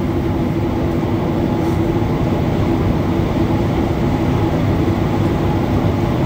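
A Montréal metro train runs through the tunnel between Atwater and Lionel-Groulx stations on a long curve, giving a loud, constant rumble and roar heard from inside the car.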